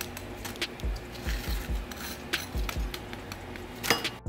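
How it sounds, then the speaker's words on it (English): Crisp, rustling scrapes and light clatter of crispy air-fried lemon pepper chicken wings being tossed in a bowl, with a few soft thumps, close and fairly quiet. "As you can hear, they're nice and crispy."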